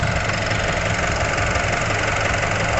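A Nissan NV350 van's YD25 diesel engine with a turbo actuator fault runs steadily, a loud, close, constant rumble with a knocking diesel clatter and no clear change in pitch, heard alone.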